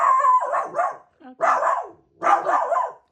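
Tinker, a pet dog, gives three bursts of close, loud barking during grooming with a grooming machine, separated by short pauses. A voice speaks briefly between the bursts.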